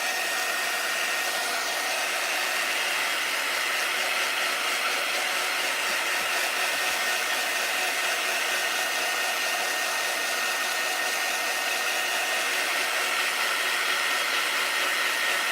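A hair dryer blows steadily for the full length to dry paint on a DIY workshop sign, a loud continuous airy roar with no speech.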